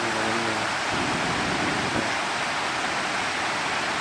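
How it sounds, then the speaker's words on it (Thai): Tad Yuang waterfall near Ban Lak 40, Pakxong, Champasak, Laos, pours in a steady, dense roar of falling water that stays even and close throughout, with a faint low voice briefly at the start. "อันนี้คือ น้ำตกตาลเนี่ย"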